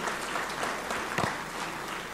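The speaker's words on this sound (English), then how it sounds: "So a round of applause," An audience at a college athletic hall of fame ceremony claps steadily, a moderately loud, even patter of many hands with one sharper clap standing out midway.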